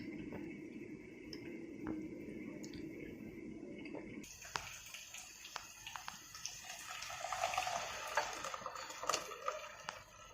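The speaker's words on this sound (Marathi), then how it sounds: "त्यासाठी पाणी घालायचं आहे" Water is poured into a pan of soaked-dal zunka as it cooks, giving a soft, faint splashing wash partway through, followed by light clinks of a utensil against the pan.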